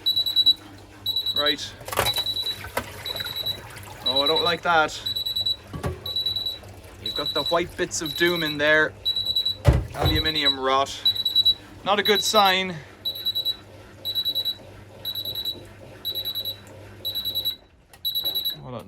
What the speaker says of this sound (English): It's going to start beeping at me in a second